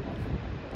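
Strong, cold wind blows in off the sea along a coast, a constant low rumbling gust buffeting the microphone, loud and close with no voices.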